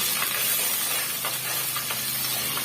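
Fresh curry leaves frying and sautéing in a hot pan while a bitter gourd tamarind kulambu is made, a steady bright sizzle with faint crackles, close and alone.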